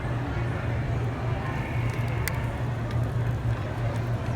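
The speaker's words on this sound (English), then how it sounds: "You can also hear that the motor's really quiet. It's different than that original one." A Sizzix die-cutting machine's electric motor runs with a low, steady hum and faint whir, continuous and even at close range, with no change across the run.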